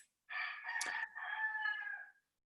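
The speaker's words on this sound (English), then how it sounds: "I love that you have the sound of a rooster, or somebody has the sound of a rooster." A single rooster crows once, a clear cock-a-doodle-doo heard alone at moderate distance, rising then holding a long drawn-out final note.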